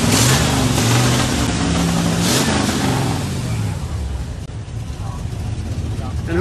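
An old car's engine cranks and runs, a rough, loud rumble that builds and holds with revving surges over several seconds, close by with people talking around it.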